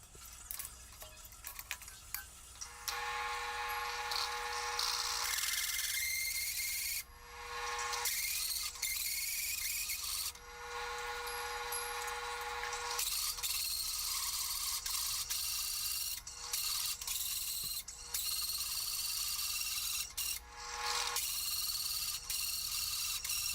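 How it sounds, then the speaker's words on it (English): Hole saw cutting holes through metal with dark cutting oil for a dual 4.5 inch grinder hanger build, a steady close grinding, rubbing bite with a constant motor whine, broken by brief pauses between cuts. "Slow it down to run this hole saw."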